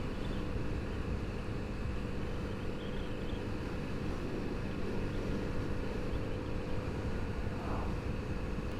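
Kawasaki Z900RS motorcycle cruising in top gear over a broken road, a steady low engine drone with wind rush held at an even level throughout, no voices.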